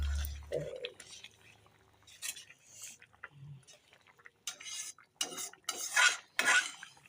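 Egg curry with fresh coriander leaves being stirred in a metal pan, with spoon scrapes and clinks against the pan in bursts, fairly close and moderately loud, ending in a cluster of sharper scraping.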